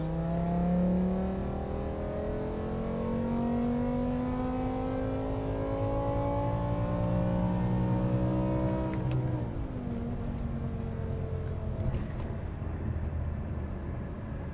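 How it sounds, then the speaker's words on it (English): A car engine revs hard at full throttle, pitch climbing steadily through the gears, then dropping sharply after a shift before rising again; loud and close. "that's when you give it a full wide open throttle run"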